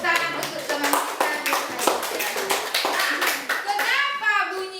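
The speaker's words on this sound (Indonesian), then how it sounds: "Berikan tepuk tangan untuk teman kita" Children in a classroom clap together for a classmate in brisk, rhythmic bursts while young voices chatter over the claps.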